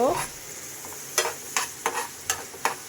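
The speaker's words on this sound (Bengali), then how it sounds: "আমি এখন পেঁয়াজগুলোকে সুন্দর করে একটু লাল লাল করে ভেজে নিব" Onions frying in a pan until browned for an egg bhuna, a steady close sizzle with several sharp scraping stirs punctuating it.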